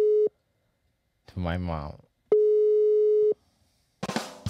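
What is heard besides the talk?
phone call ringing tone via RØDECaster Pro II Bluetooth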